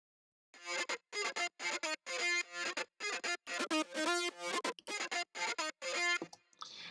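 A buzzy, distorted saw-wave synth lead from a Nexus patch plays a choppy series of short and sustained notes, bright and harsh, alone with no other instruments.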